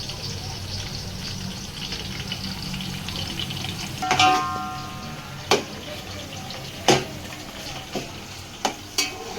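Onions sautéing in a pan for maqlooba make a steady soft sizzle, with a few sharp metallic knocks and scrapes from a spoon stirring them.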